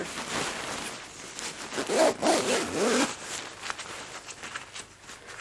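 A zipper on a Mountain Hardwear Phantom Alpine sleeping bag is drawn back and forth in several close, scratchy pulls with soft fabric rustle between strokes.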